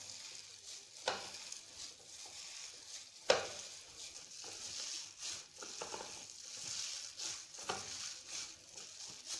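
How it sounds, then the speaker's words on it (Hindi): Chicken nugget mixture is stirred and mixed by hand in a bowl, making soft, wet squelching and scraping sounds with a few sharper knocks, quiet and close throughout. "अब हम इसको अच्छे से मिक्स कर लेंगे।"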